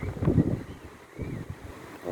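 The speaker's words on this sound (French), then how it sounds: "Le temps il a changé, le vent il a monté." Wind rising over a lake during a day of carp fishing, gusty rushing and buffeting against the microphone that swells and fades in uneven bursts, with no talk.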